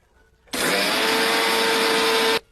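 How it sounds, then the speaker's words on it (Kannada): A kitchen mixer grinder jar whirs at full speed grinding cooled roasted sesame seeds, a loud, steady high-pitched roar lasting about two seconds with abrupt start and stop. "ಇದನ್ನು ನಾವು ಮಿಕ್ಸಿ ಜಾರ್ ಮಾಡ್ಕೊಂಡು ಈಗ ಪುಡಿ ಮಾಡ್ಕೊತ ಇದ್ದೀವಿ"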